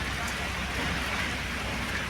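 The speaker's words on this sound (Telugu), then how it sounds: "కొంచెం వీడియో తీయాలా వర్షం ఎలా పడుతుంది అనేది" Heavy rain falling in Hyderabad, a dense, steady hiss of drops striking surfaces, even and unbroken throughout.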